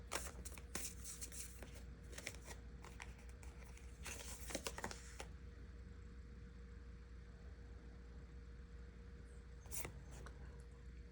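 Tarot cards being shuffled, a run of soft riffling and flicking bursts close by in the first half, then quiet room tone with one more brief flutter near the end.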